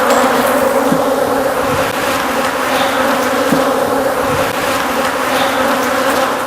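Honeybees swarm and attack around an opened hive, a loud, dense, unbroken buzzing drone with individual bees whining past close by.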